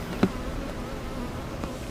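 A honeybee swarm at a favored capture spot makes a faint, steady insect buzz with a couple of brief louder passes close by. No one speaks.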